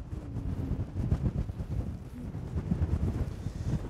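Strong wind buffets a microphone on an exposed landscape on the Isle of Skye, a rough, rumbling low roar that gusts and swells unevenly for a few seconds with no speech.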